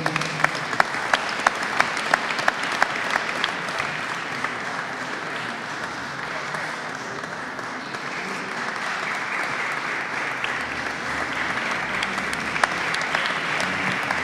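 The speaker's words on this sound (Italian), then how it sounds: "Un bel applauso." Sustained applause from a crowd at a Santa Barbara feast celebration, a dense steady clatter of clapping hands lasting throughout.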